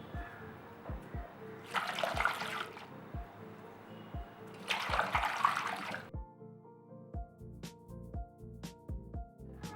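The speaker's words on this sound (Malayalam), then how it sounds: "എന്നിട്ട് നല്ല പോലെ ഒന്ന് കഴുകി വാരണം." Drumstick leaves are swished and splashed in water in two bursts, with soft drips and clinks of a vessel between them, close by and without speech.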